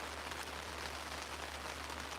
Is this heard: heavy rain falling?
yes